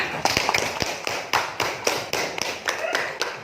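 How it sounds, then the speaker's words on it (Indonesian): Classroom applause for a student group: a small crowd of hands clapping briskly and close in a rhythmic patter of sharp, evenly spaced claps over a few seconds. "Aplaus dulu untuk kelompok 5."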